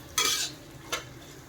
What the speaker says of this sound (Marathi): हे सगळं परतून घ्यायचं याच्यामध्ये